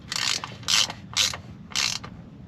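A hand ratchet snugs the transfer case fill plug on a 2011–2016 Ford F250/F350 with a BorgWarner 1628 case, giving four quick, close bursts of crisp clicking separated by brief pauses.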